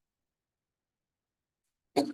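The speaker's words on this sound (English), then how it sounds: "So a lot of people cough here." A single short cough or throat-clearing bursts out near the end of an otherwise silent stretch, close and moderately loud, during a quiet yin yoga class with props.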